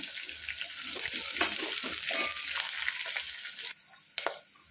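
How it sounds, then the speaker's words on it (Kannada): Mint, curry leaves and kasuri methi frying in a pan for stuffed brinjal curry, a steady close sizzle with stirring scrapes and a brief quieter stretch near the end. "ಪುದೀನ, ಕರಿಬೇವಿನ ಸೊಪ್ಪು, ಕಸ್ತೂರಿ ಮೆಥಿ ಎಲ್ಲ ಹಾಕ್ಕೊಂಡು ಫ್ರೈ ಮಾಡ್ಕೊಳ್ಳೋಣ"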